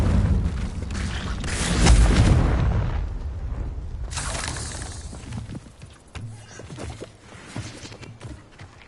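A fiery explosive spell, Confringo, goes off in the Hogwarts Legacy video game. It lands as a loud, deep boom that swells and rolls away over a couple of seconds, followed by a second softer burst and scattered game effects.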